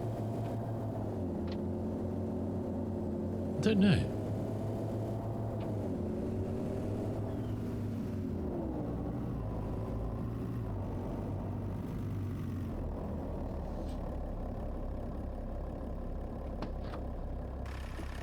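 A truck with a 6-cylinder engine idles steadily in Farming Simulator 25, a low droning rumble with slight pitch shifts, heard close and continuous under a brief spoken remark.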